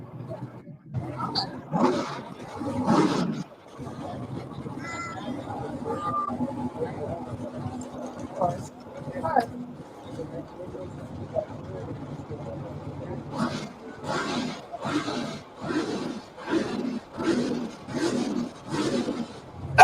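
Corvette with a 427 engine and nitrous roaring past in road racing, bursts of loud revving and whooping exhaust, quieter in the middle and then a run of rapid pulsing blasts, with people talking over it.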